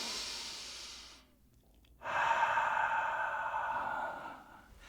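A deep breath drawn in through the nose, a short pause, then a long, steady exhale through the mouth, close and clear with no talking.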